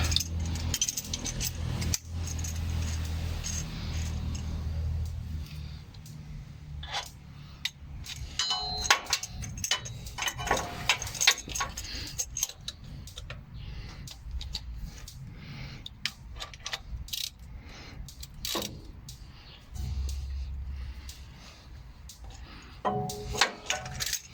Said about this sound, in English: I now have a filter wrench that we're going to try to get it out